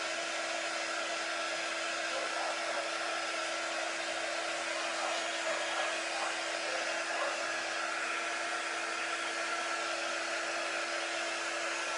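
A hair dryer dries chalk art on a board: a steady, loud, close blowing whir with a constant hum that holds unchanged throughout, with no voices.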